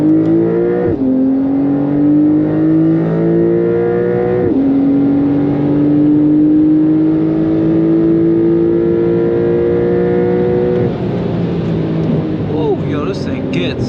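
A 2021 Porsche 992 Carrera pulls hard under acceleration, its engine note climbing steadily through two gear changes with brief dips at each shift, loud and continuous from inside the cabin.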